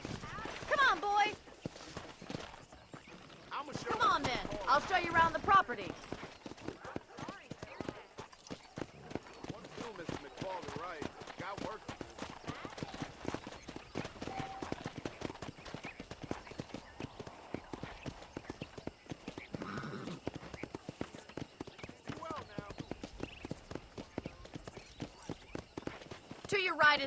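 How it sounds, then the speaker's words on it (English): Horse hooves clip-clop at a steady walking pace in the Red Dead Redemption game, running almost continuously beneath intermittent conversation, with the odd snort or whinny from the horse. "I picked out a fine horse for you."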